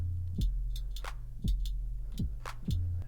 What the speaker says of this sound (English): I made this drum loop a little while ago